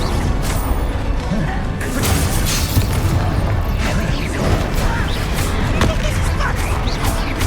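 Spell blasts thud and burst against a troll in a Hogwarts Legacy battle, a dense, continuous clatter of booms and crashes under steady game noise, with a voice talking over much of it.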